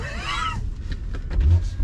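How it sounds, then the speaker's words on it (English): A BMW X4 M40i engine revving nearby in New York City traffic, a short loud rising rev that fades, followed by lower rumbling road noise. "that revving you hear is not this car. It's the X4 M40i in front of me."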